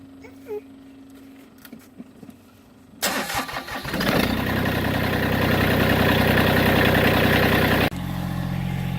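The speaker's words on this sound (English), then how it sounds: "So now I'm about to crank up the tractor" After a few soft knocks, a Massey Ferguson GC1710 tractor engine cranks and catches, then settles into a loud, steady rumbling idle close by, with a brief dip near the end.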